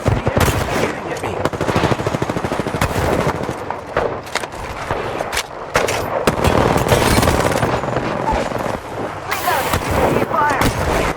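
Dense, continuous rapid gunfire and bursts in a first-person shooter video game, loud and sustained throughout with overlapping shots and booms, while a player's voice is mixed in under the shooting.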